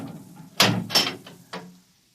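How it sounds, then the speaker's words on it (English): A door is opened as a radio drama sound effect: a few sharp, close clunks and a rattling latch in quick succession, then fading to silence. "Open the door."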